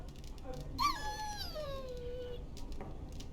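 A dog in the video game Dragon Age: Origins gives a single drawn-out whimper, a high whine that slides downward. It sits moderately close over quiet background ambience.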